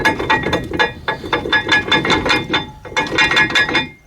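Rapid ratchet clicking as a wrench works loose the lower brake caliper bracket bolt on a 2010 Ford F-150 during a front rotor and pad job, close up in bursts with a short pause before a final run.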